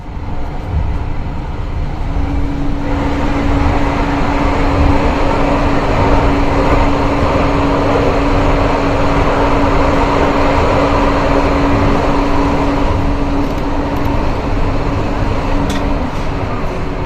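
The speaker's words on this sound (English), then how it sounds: "the tram train goes into a brand new section of metro tram tunnel in the centre" A Karlsruhe tram-train runs into a newly built metro tram tunnel in the city centre, giving a loud, steady rumbling roar with a constant hum, close and continuous throughout.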